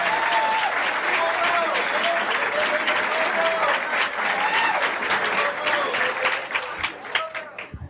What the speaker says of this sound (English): Let's have a nice round of applause from New York City, Nicky Shane.